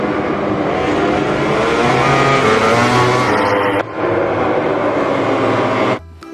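Racing motorbike engine droning and revving steadily at close range, loud and continuous, with a sharp cut partway through and a brief drop near the end.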